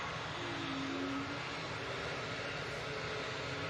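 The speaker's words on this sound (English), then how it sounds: "Right, Brussels Airline A320 Neo." Brussels Airlines Airbus A320neo at an airport, giving a steady, fairly distant broadband engine roar that holds evenly throughout with no speech.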